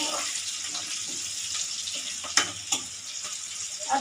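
Fenugreek leaves and green chilies sizzle in hot oil as a tempering, a steady close hiss with a few sharper crackles and pops, heard alone.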